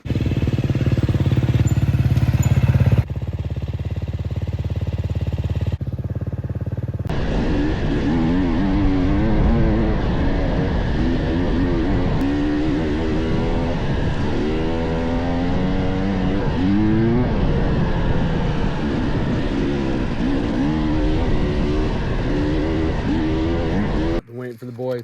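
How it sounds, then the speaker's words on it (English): A dirt bike approaches on a North Idaho single-track trail, its engine buzzing and revving in rising and falling bursts, growing louder over about twenty seconds after a quieter stretch of wind and rustling. "Finally hear a bike coming."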